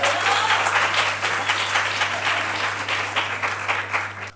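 Applause from the audience at a cardiovascular unit medical conference, a steady dense wash of clapping held for several seconds that fades slightly toward the end, with a low steady hum underneath.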